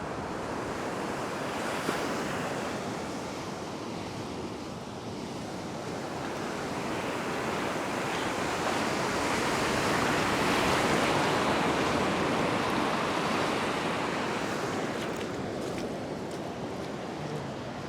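Surf washing onto a beach, with gusty wind buffeting the microphone: a steady, broad roar that swells toward the middle and eases again, with no talking.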